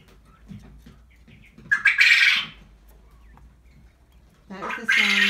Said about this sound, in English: male quail crowing.